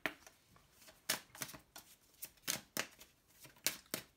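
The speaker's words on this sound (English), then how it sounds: "One last shuffle." A deck of tarot cards shuffled by hand in a quiet room, with a quick irregular series of close, crisp riffling bursts, each a short papery flutter.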